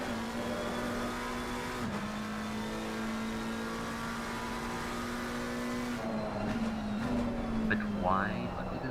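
Team Iris number 77 McLaren 720 race car engine in a sim racing game, a steady onboard drone with a strong tonal whine that dips on a shift and warbles near the end, with a commentator talking over it.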